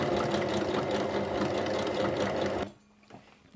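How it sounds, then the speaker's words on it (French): A sewing machine overlocks cushion cover fabric along a zipper, giving a loud, steady whirring hum for under three seconds before it abruptly stops, leaving faint handling noise. "eh bien on surjette tout du long."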